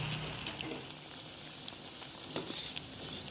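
Banana flower vadai deep-frying in hot oil, a soft, continuous crackling sizzle with scattered small pops, steady and fairly quiet throughout.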